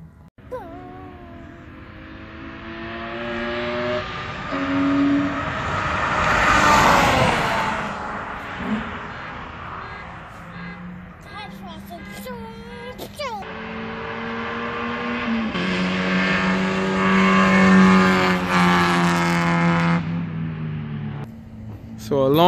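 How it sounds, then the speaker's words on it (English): A Honda CR-V racing on a track at Summit Point Raceway, its engine revving and droning near and far as cars pass, with people talking and cheering over it. "A CRV on the track?"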